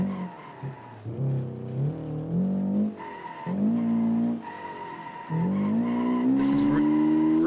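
Car drifting on a touge mountain road in BeamNG, played on a wheel, with tires squealing in long sustained screeches and the engine revving up and down beneath them, loud and continuous.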